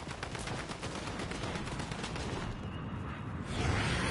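Rapid gunfire rattles in Fortnite Save the World, a dense stream of quick shots at moderate distance that runs continuously and grows slightly heavier at the end.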